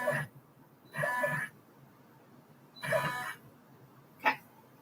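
A home embroidery machine stitching bag designs runs in short bursts of rapid mechanical whirring, three separate runs of about half a second each with quiet pauses between, ending in a brief sharp click.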